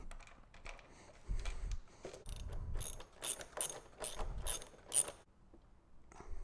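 A hand ratchet tightening an FMF exhaust bolt on a 2022 Yamaha YZ250FX, rapid bursts of clicking pawl ticks in several short strokes, close and fairly quiet, no voice.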